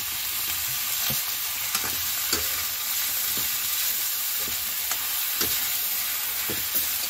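Mushrooms being sautéed and stirred in a pan give a steady close sizzle with repeated soft scraping strokes throughout, with no talking.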